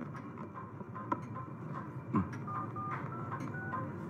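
Telephone being dialed in a Tamil film scene, a faint series of short beeping key tones over quiet background room noise.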